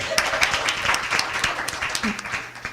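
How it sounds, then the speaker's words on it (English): Audience clapping at a Southfield Public Schools board meeting, uneven applause from a small crowd with loose, scattered claps and a few voices mixed in. "y'all can clap it up for us"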